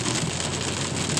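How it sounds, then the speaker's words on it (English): Rain falling steadily, a dense continuous hiss of drops on surfaces, loud and close with no voices. "it's starting to rain again"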